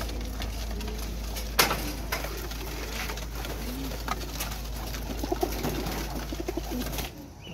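Pigeons cooing at a flying-pigeon competition, soft repeated coos close by over a steady low hum, with a few sharp knocks and fluttering sounds.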